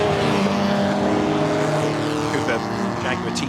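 A Cooper Jaguar T33 race car at Goodwood roars past on track, its engine note loud and sustained with shifting pitch, mixed with a commentator's voice over the top.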